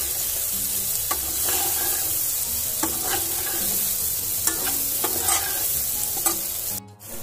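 Potatoes frying in oil with sesame and cumin seeds are stirred in a pan, with a steady close sizzle and repeated scraping strokes of the spoon; a faint splash of tap water comes at the end.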